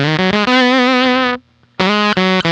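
Tele-style guitar on its bridge pickup driven through a Cat Box Customs Bean Machine fuzz, loud saturated notes and a sustained chord that cuts off abruptly into a gated silence before more clipped, fuzzy notes return.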